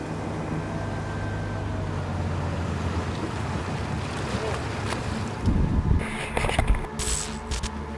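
A river police boat approaches across open water on a Russian river, its engine rumble blending with steady wind and water wash. The sound grows louder and rougher toward the end.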